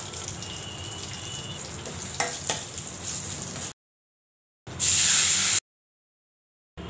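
Dried red chillies, curry leaves and asafoetida sizzle and spit in hot oil as a tempering for rasam, a loud bright hiss with a few crackles, broken by short silent gaps.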